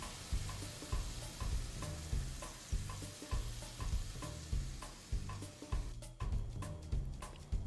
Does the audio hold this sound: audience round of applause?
no